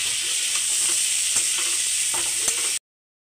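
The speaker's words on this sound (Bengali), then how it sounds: "এবার হালকা স্টিমে অল্প ভেজে নেব।" Chickpeas for masala chana sizzling and frying in a pan, a steady close hiss with occasional soft stirring scrapes, no voices, ending abruptly.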